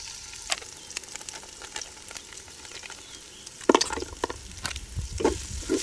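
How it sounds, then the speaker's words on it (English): Oil frying in a pan for Thai braised pork leg (kao ka moo), with a close crackling sizzle, sharp pops and spatters, and louder bursts of bubbling about midway. "Okay, I have to fry."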